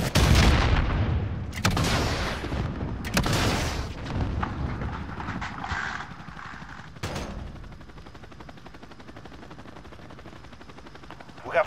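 Gunfire in a Call of Duty: Modern Warfare multiplayer match: a few loud, sharp shots and bursts ring out up close, each with a short echoing tail, then the firing trails off into quieter background rumble.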